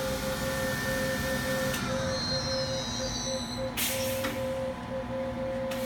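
A steady whine and hum from the spindle of a 2006 Fadal VMC 6030HT CNC machining center, running continuously with a pulsing tone throughout and a brief rising hiss partway through.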